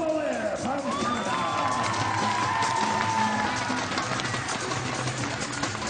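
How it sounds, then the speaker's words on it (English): Crowd applauding and cheering for Canadian diver Pamela Ware at a 3m springboard FINA Diving World Series event in Windsor, steady clapping throughout with a voice speaking over it. "Gentlemen, your applause, please, for Pamela Ware from Canada."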